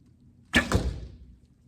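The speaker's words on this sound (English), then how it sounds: "This bow's pretty quiet" A single shot from a Bear Montana compound bow close by: a sharp snap of the string followed by a brief, fading thrum, fairly quiet overall.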